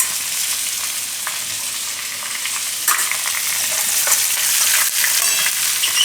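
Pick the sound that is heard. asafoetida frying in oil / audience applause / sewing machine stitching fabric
asafoetida frying in oil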